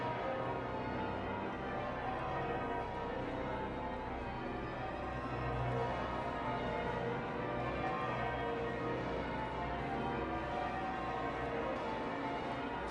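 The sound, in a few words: church bells of St. Paul's pealing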